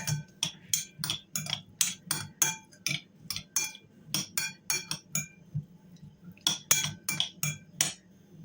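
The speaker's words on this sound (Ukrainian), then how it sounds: "беру дві чайні ложки олії звичайної соняшникової і перемішую наш буряк" A spoon clinks repeatedly against a bowl, stirring beetroot with sunflower oil in a steady rhythm, close and crisp, with a short pause before the scraping and tapping resume.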